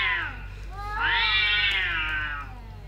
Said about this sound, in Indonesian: Ternyata ada juga suara kucing berantem